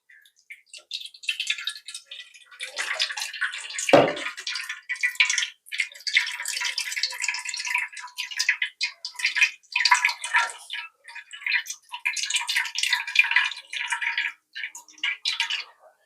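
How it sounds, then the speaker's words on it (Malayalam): Water drains off soaked flattened rice (aval), a steady close trickle and spatter running for about sixteen seconds, with one dull thump partway through. "നമുക്ക് കുതിർക്കാൻ പറ്റുന്ന അവില് ഒന്ന് വെള്ളം കളഞ്ഞെടുക്കാം"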